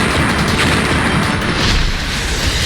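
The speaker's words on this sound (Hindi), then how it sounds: "मिसाइल के बदले में चल रही मिसाइल" A North Korean intermediate-range ballistic missile launch gives a loud, dense, continuous rumbling roar that fills the air without a break.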